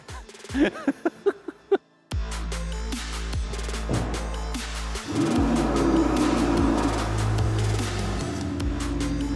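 A Ferrari on a test drive starts with a few sharp blips, then settles into a loud, sustained engine roar that rises and builds under acceleration.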